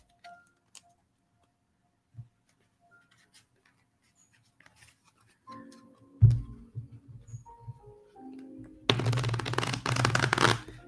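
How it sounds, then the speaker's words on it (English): Faint scattered clicks and taps lead into a brief riffle, then a sustained crisp shuffle of playing cards near the end. "Let me give my decks a shuffle for you."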